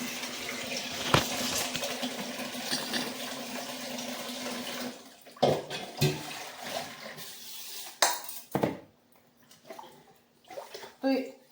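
Food is rinsed in water at a home kitchen, with steady running water and splashing that break into uneven bursts and clinks of pots. A voice talks over parts of it.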